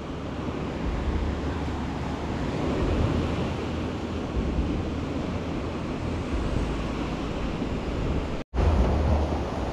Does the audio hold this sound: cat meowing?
no